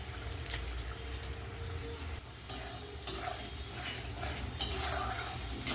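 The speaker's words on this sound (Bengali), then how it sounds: "ভালো করে মশলাটা কষিয়ে নেব" Spices with turmeric, salt and Kashmiri red chilli powder frying in a pan for potato kofta curry, a low sizzle under repeated spoon scrapes and clinks against the pan.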